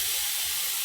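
A pressure cooker vents a loud, steady hiss of steam after its whistle is pulled off while meat cooks inside, a brief continuous rush with no talk over it.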